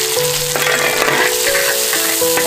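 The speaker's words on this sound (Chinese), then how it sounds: "锅里有点油，把这个青花椒倒下去。 再倒入姜蒜" Green Sichuan peppercorns, ginger, garlic and chili fry in hot oil in a wok, a loud steady sizzle close up with crackles and spatters, joined by a sustained tonal hum, and nobody speaks.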